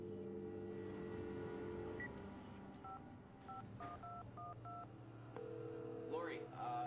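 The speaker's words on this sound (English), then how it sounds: "Scott Kelly had called her back, and he couldn't get through" Telephone keypad being dialed in a dramatized phone call, a series of short touch-tone beeps in quick succession over a faint background hum, heard up close and moderately quiet.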